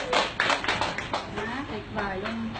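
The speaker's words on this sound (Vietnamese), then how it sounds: "Ôi vỗ tay đi chúc mừng." Hands clapping in congratulation in a small indoor group, a burst of quick claps with voices talking and exclaiming over them.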